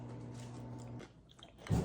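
A crunchy sweet pickle is bitten once at close range, giving a sharp crisp crunch near the end after a short quiet stretch.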